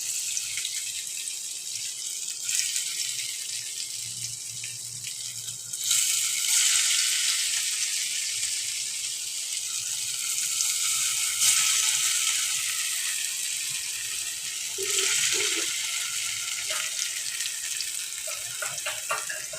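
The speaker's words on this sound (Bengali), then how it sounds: "তেলটা আমার গরম হয়ে গেছে আমি ওই কাটাগুলোকে এবারে আমি তেলে ছেড়ে দেব দিয়ে ভেজে নেবো" Cut pieces hiss and crackle in a pan of hot oil for a Bengali masoor dal and egg dish, a steady broad sizzle that flares louder in bursts, with faint low clatter underneath and no voices.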